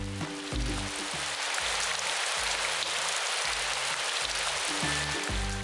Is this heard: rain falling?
yes